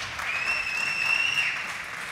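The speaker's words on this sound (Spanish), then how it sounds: "Un aplauso para ellos, muy bien jugado." Crowd applause at a League of Legends esports grand final for the runner-up team, a steady sustained clapping from a large audience in a hall, loud and continuous with no talk over it.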